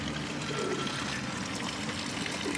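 Water from a public spring in Sofia, Bulgaria, pouring steadily into a bottle, a continuous close splashing trickle with no break and no talking.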